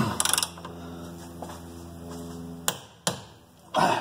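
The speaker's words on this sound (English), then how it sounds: "So I'm going to get a torque wrench and torque those bolts down." Torque wrench tightening bolts on the suspension of a 1982 Mercedes 300SD: a few sharp metallic clicks and ratchet snaps, one early cluster and two isolated clicks later, with a final scraping clatter, close up with no talk.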